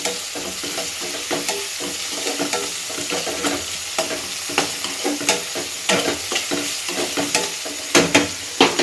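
Onions, green chillies and tomatoes frying in oil for boiled egg bhurji, with a steady sizzle broken by frequent close spatula scrapes and clatters against the pan that grow louder toward the end.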